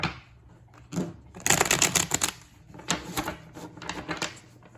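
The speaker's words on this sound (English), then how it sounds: "I'll shuffle a little bit on camera" Tarot cards being shuffled by hand in quick papery bursts, a few soft riffles and slaps that come in irregular clusters, fairly close and quiet.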